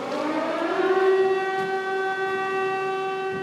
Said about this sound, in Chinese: 空袭警报一弹，